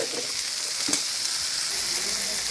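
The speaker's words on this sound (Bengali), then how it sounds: "দেখেন সবজিগুলো দিয়ে আমি সুন্দর করে লবণ দিয়ে সুন্দর করে মাখিয়ে নিলাম, একটু তেলে ভেজে নিচ্ছি।" Salted vegetables for noodles fry in a little oil, giving a steady close sizzle with a brief clink of stirring and no talking.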